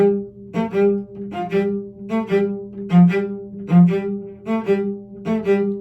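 A plucked string instrument plays short pairs of notes separated by brief pauses, in a steady repeating rhythm, close and clear with no talking.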